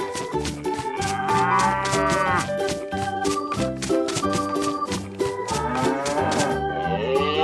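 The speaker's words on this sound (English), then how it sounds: "Cow." A cow moos loudly and close in a cartoon animal sequence, with long drawn-out lowing calls repeating over several seconds against a busy animated background.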